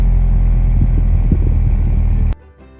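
A 2024 Honda Civic Type R, a turbocharged hatchback with a three-tip exhaust, gives off a low, steady, booming rumble up close that cuts off abruptly near the end.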